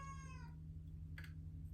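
Indoor house cat giving a single short meow, faint and somewhat distant over a steady low electrical hum, followed by a brief soft rustle; no talking.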